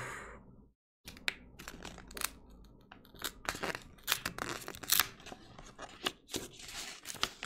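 A small envelope of fan art being torn open and unwrapped, a close run of sharp ripping, crinkling and crackling bursts of paper and wrapping, quiet and irregular, with no talking.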